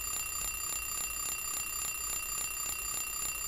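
Loud electronic alarm clock ringing in the video game Silent Hill 3, a shrill rapid pulsing tone repeating at an even fast rhythm, steady and alone with no talking.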